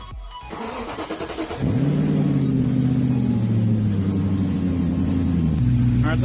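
A BMW E39 540i V8 cranks and starts after a cooling system overhaul, a brief starter whir followed by the engine catching and settling into a high, steady idle close by.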